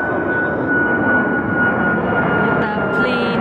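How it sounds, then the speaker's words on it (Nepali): A United Airlines airplane taking off by a waterfront dock, a loud continuous jet roar with a steady whine that holds throughout. "यसरी प्लेन उठ्छ यहाँ युनाइटेड एयर यो प्लेन त यहाँबाट उडिरहन्छ"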